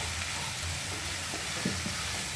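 Tomatoes and onions frying in a pan, stirred so they break down, giving a continuous loud sizzle with a few brief scraping stirs near the end.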